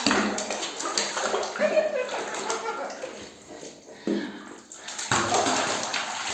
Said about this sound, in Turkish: Şu an çırpınıyor Melek.